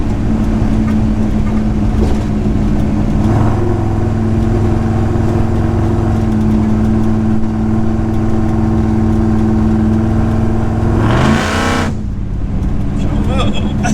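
A car on its first road test drive cruising in high gear, its engine giving a loud, steady droning hum with a brief pitch shift and surge near the end.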